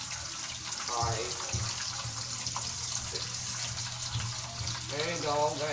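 Mozzarella cheese sticks fry in hot oil with a steady hissing crackle. A voice speaks intermittently over the sizzle.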